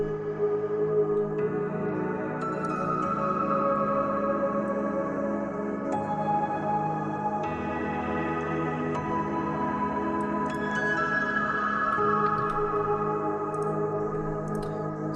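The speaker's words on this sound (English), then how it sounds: "So this piano is from Spitfire Labs, probably one of my favorite pianos ever." A soft sampled piano from Spitfire Labs plays gentle sustained chords with slow changes, mellow and moderately quiet, with a layered background sample beneath it and no voices.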